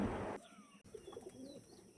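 Pure-bred black pigeons held for sale coo faintly after a brief loud rush of noise at the start, with soft tones continuing underneath for the rest of the clip.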